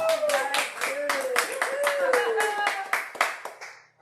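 A crowd claps in quick, uneven bursts at an ultramarathon lottery drawing. The clapping is under a steady drawn-out vocal sound, whooping or talking, and fades toward the end.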